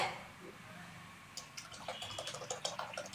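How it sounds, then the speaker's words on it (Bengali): Water is poured into a pot of rice and lentils for a winter vegetable khichdi, heard as a faint, close trickle and splash that grows into a steadier stream of drips with no talk. "দিয়ে দিলাম পরিমাণ মতন জল।"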